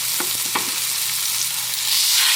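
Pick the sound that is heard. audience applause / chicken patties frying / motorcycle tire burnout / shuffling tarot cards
chicken patties frying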